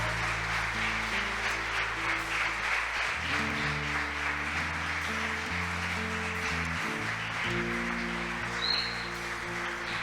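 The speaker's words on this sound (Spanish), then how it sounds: "Den un aplauso al Rey de Gloria" A church congregation applauds in a steady, distant wash of clapping, layered over sustained organ-like keyboard chords that shift about a third of the way through.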